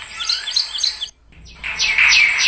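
Sparrows near their nest in a home garden give loud, close, rapid chirps in two clusters. A brief quiet gap separates the clusters, and the second burst is busier and more insistent.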